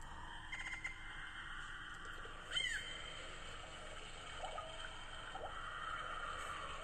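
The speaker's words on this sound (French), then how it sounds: "Vous entendez les oiseaux?" Faint bird calls over a steady background hum, with a brief sharper chirp standing out midway.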